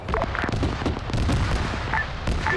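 Gunfire from a vehicle in a military video game rattles as dense overlapping bursts of shots, loud and close, running continuously through the short stretch.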